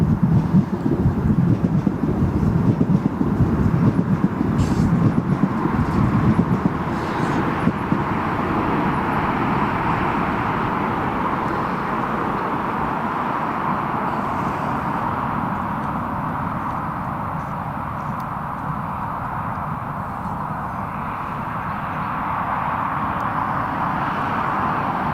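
An airliner on final approach at Newcastle Airport gives a loud, steady, broadband jet roar with a low rumble that eases slightly over time and continues throughout, with no talking.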